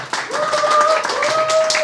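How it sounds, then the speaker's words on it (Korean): Audience at a November 2022 AI event applauds to welcome a speaker to the stage: a short burst of steady clapping, with a tonal ringing line running through it. "모두 큰 박수 부탁드리겠습니다"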